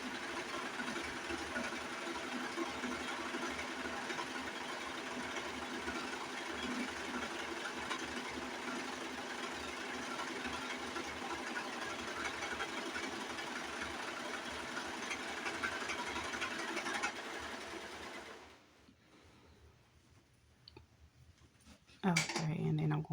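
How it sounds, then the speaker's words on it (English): A sewing machine runs steadily along the short side of a fabric headwrap, a continuous rattling hum that lasts for about eighteen seconds before stopping, then quiet handling and a brief louder clatter at the end. "But we're going to sew down the short side again."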